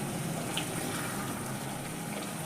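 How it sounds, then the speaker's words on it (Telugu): Steady, close rush of water poured into a pan of simmering hotel-style chicken curry, a continuous gushing sound with no talk over it. "కొద్దిగా వాటర్ పోసుకొని కూర తీసుకుందాం"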